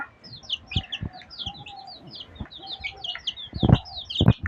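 Chickens on a large poultry farm cluck and chirp in a busy chorus of repeated short calls, close and fairly loud, with intermittent thumps and scuffs among them and no talking.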